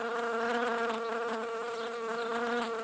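A bee buzzes steadily and loudly up close, a continuous droning hum with a slight wavering pulse throughout and no other sounds.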